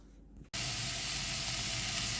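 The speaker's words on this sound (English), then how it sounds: "That's the leeks in the pan with a little bit of oil just starting them out." Leeks sizzle in a little oil in a pan, a close, steady hiss that starts abruptly after a quiet moment and continues evenly without any voices.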